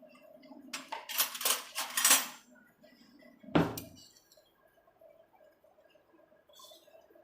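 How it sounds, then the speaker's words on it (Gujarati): Ghee spooned into a pan for a coconut sweet (kopra pak): a quick run of metallic clinks and scrapes of spoon on pan, then one sharper knock and faint clatter, close and otherwise quiet. "હવે 2 ચમચી જેવું ઘી નાખીશું।"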